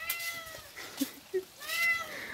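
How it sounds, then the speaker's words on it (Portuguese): A cat gives several short meows at close range, with people talking over it in a home kitchen. "o gato tá miando"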